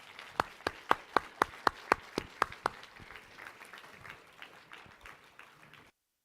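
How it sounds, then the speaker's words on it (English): Applause from a lecture audience at the close of a distinguished professor talk: a run of about ten sharp, evenly spaced claps up front, then thinner scattered clapping that fades out, moderately near and with no voices. "Applause"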